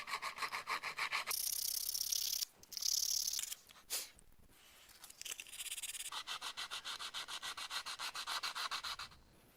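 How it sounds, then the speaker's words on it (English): Filler being sanded on the handle of a 60-year-old French food mincer, heard as close, rhythmic rasping strokes in several bursts separated by short pauses, with the last stretch a steady back-and-forth scrubbing. "I can now sand the filler down and paint this one also."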